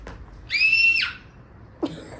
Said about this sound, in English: You know when things are not going your way, you just scream.